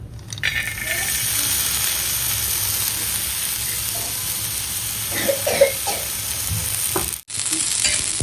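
Chillies fry in oil in a new pan, making a steady, close sizzle with a few light clinks of stirring, while someone speaks over the frying and the sound cuts out briefly near the end.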